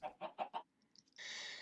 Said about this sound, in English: Let's breed these chickens and hopefully be done with this whole chicken catastrophe.